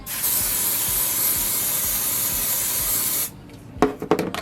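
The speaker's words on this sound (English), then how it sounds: "Then you do your spray." Hair spray hisses onto natural hair being styled into a sleek bun, one steady close spray lasting about three seconds that cuts off abruptly, followed by a few faint handling clicks.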